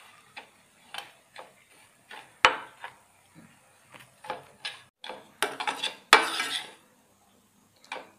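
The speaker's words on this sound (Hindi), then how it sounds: "सूजी डालूंगी इसमें। अब इसे मीडियम टू स्लो फ्लेम में भून लेना है हमें गोल्डन ब्राउन होने तक।" Dry semolina roasts in a little oil in a pan over a medium-low flame, a spoon scraping and clinking against the metal in irregular taps and strokes, close and clear in a quiet kitchen.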